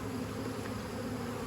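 Honeybees humming at an open hive in a beekeeping yard, a dense steady buzz close by with no breaks.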